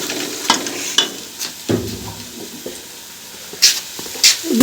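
Chillies fry in a pan with scattered sizzling bursts and stirring scrapes in a home kitchen, close up. The sound comes in irregular pulses with quieter gaps between them and no voices.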